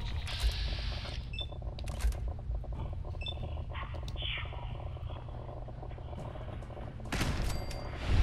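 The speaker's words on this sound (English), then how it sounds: "Then you shoot the two turrets that activate in here." Turret gunfire rattles in the Fallout 4 video game: bursts of shots run through a steady game soundscape, with a louder flurry near the end.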